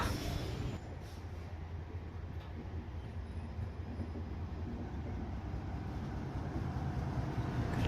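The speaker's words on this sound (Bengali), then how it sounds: "ফাইনালি ট্রেনটা সিগন্যাল পেয়ে গেল আর স্টেশনের ভিতরে ঢুকতে শুরু করলো" Train pulling into a station in northeast India, a low steady rumble of wheels and wagons with a brief high squeal, faint and even throughout, no talk.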